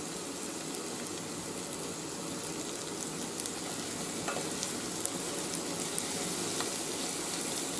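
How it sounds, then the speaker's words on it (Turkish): Egg noodles sautéing in olive oil in a pan give off a steady, close sizzle and frying crackle with occasional small pops, heard alone without talk. "Biraz daha kavuracağım."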